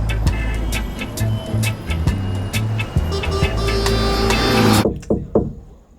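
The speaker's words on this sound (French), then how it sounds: "Je prends les sons de voiture pour faire un documentaire." A car's steady low engine rumble with scattered knocks and clatter, fairly close, cutting off abruptly near the end.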